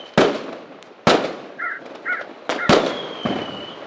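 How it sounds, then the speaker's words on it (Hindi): Firecrackers burst at a festive jungle fair, several sharp loud cracks about a second apart, with crow-like caws chirping between them. "हर जगह पटाखे फूट रहे थे।"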